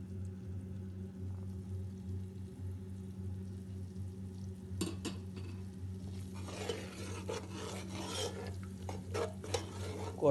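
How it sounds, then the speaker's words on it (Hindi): Spices are mixed into a kofta curry in a pot, heard as quiet rubbing and scraping strokes that begin about halfway through over a faint low hum. "इसको अच्छे से हमने मिक्स कर लेना है।"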